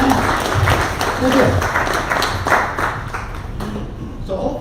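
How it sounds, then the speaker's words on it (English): An audience at a 1 Million Cups Lake County gathering in Eustis claps in a round of applause for a first-time attendee. The clapping is moderate and dense and fades gradually, and a voice is heard faintly beneath it. "let's give him a round of applause for making it here for the first time"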